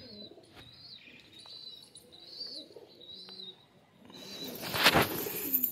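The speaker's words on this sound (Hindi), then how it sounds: "कबूतर उड़ रहा है, वो भी दिखा रहा हूँ आपको।" Pigeons cooing softly outdoors with scattered chirps, then a burst of flapping wings as birds take flight, fairly faint and distant.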